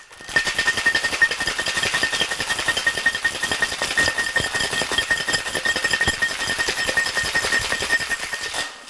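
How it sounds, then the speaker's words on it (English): Ice rattling hard inside a locked metal tin as a rye Scofflaw cocktail is shaken, a fast continuous clatter of rapid rhythmic hits lasting several seconds, close and loud with no talking. "And we're just gonna add our ice to our tin. Lock it and shake."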